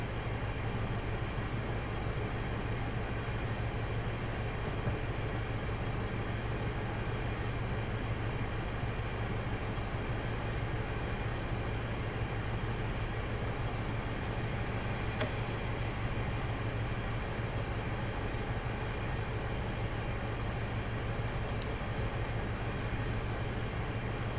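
An HST train coasting along a levelled gradient past a station in Train Simulator 2017, a steady continuous rumble and drone of wheels and engine at even loudness throughout, with no talking.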